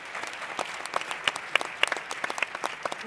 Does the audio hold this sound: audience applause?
yes